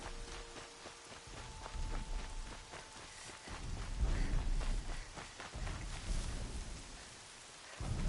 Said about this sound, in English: And the rain is gonna make it even better.